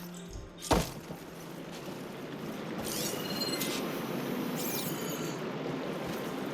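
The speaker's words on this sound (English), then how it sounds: "Aloy, I can hear water in the room again." Water flowing steadily into an interior room in the game Horizon Forbidden West, a continuous rushing wash with a brief splash or thud near the start and some faint bright metallic ticks later.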